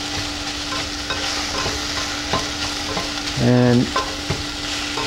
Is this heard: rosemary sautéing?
yes